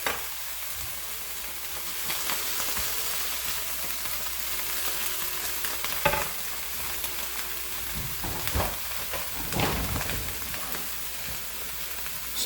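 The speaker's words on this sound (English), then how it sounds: "I'm just going to brown this tuna up just a minute." Tuna browning in a frying pan for a noodle casserole gives a steady, close sizzle with occasional louder pops and crackles, and no talking.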